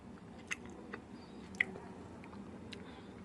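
Someone chews potato and sweet potato pizza topped with almonds, close and quiet, with a few sharp crunchy bites between soft wet mastication and no speech.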